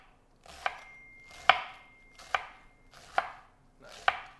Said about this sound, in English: Find a flat piece of your iceberg, and then just go ahead and give it nice, thin strips